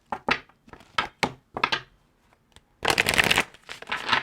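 A deck of oracle cards is handled up close, with several short riffling bursts and taps followed by a longer, denser shuffle, then a final quick flurry, with no talking.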